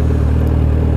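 Suzuki GSX750F motorcycle engine running loud and close at a steady pitch, with a faint clatter, on a town street in Santa Cruz, RN.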